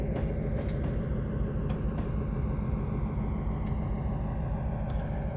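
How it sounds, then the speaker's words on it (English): A short freight train hauling grain through snowy December Manitoba in Train Simulator 2020 rumbles heavily and continuously, with a deep low-end roar and a few brief metallic squeals and clanks over the steady rolling noise. "I'm driving a train in Manitoba full of grain"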